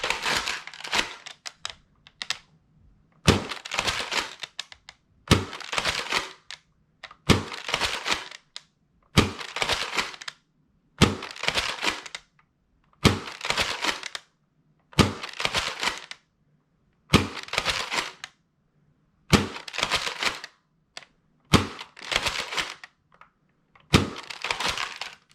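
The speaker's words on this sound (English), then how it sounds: "Firing max darts." A modified Dart Zone Max Stryker blaster fires foam darts in about a dozen loud, evenly spaced bursts of sharp mechanical clatter, each lasting about a second, with near-silence between them.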